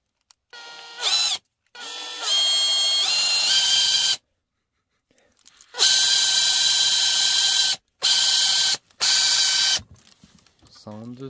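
Makita BTW251 cordless impact wrench, just repaired with a rotor fix, runs in several loud, close bursts of whirring motor and rattling mechanism separated by short silences, one burst rising in pitch as it spins up.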